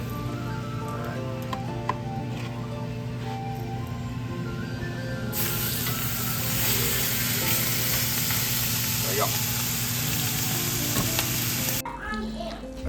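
Neck roast meat frying in a pan outdoors, a loud continuous sizzle and spatter that surges midway and cuts off near the end, with faint talk and clatter around it.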